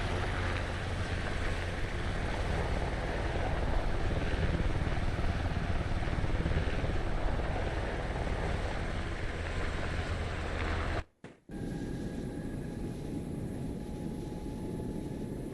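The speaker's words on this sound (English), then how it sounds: "There we go, I got a flyby MARSOC." Aircraft flyby in the video game Arma 3, a steady loud engine roar that holds for about eleven seconds, then cuts off abruptly into a quieter hum, with no talk over it.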